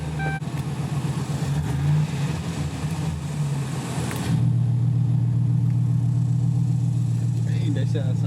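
A Ram pickup truck with its exhaust cutout open rumbles loudly up close, a deep, throaty idle that swells into a heavier, sustained drone halfway through.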